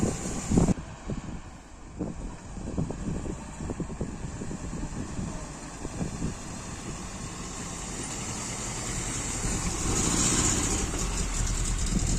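A 1984 Fiat 125p drives off with its engine running, a steady low rumble that grows slightly louder toward the end, heard from close by with wind noise and a hiss over it.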